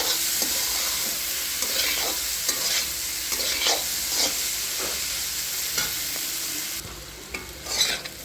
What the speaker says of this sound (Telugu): చూడండి ఫ్రై అయింది.